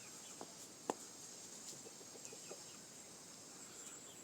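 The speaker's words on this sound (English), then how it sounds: "This is the same rooster" Chickens and a rooster in a farmyard, faint scattered clucks and short calls at a distance over a hissy background, one brief sharper squawk near the start.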